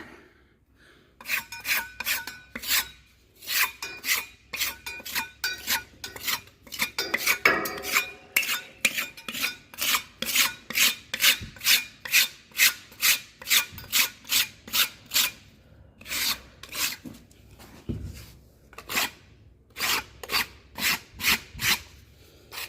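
A steel trowel rasps over rough, sandpapery lime plaster in a rapid run of short scraping strokes, steady and close, with no talking.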